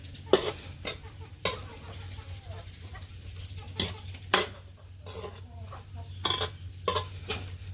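Mole crickets stir-fried in a pan, with a spatula scraping and clanking against the metal in irregular bursts over a low steady hum, mostly at close range.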